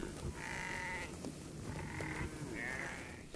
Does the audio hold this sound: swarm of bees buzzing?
no